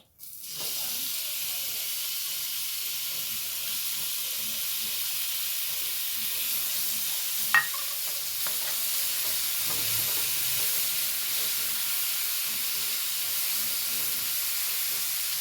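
Crushed garlic, shallots, green chilli, curry leaves and ginger drop into hot coconut oil and fry with a loud, steady sizzle that keeps going throughout, with a single brief clink partway through.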